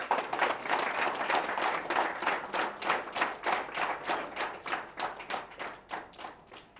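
An audience at a book launch on the history of the Rachakonda and Devarakonda kingdoms claps, starting as loose applause and settling into steady, rhythmic clapping that gradually softens, with no talk over it.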